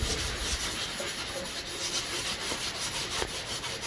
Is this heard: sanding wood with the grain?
yes